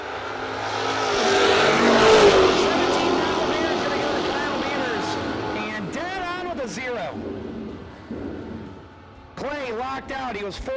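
Dodge Dart and Ford Mustang racing side by side at a no-box drag strip, with loud engine roar building and fading over the first few seconds, then an announcer talking over lingering engine noise.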